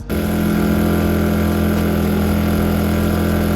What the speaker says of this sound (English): that's the noise that you have with a generator at a campsite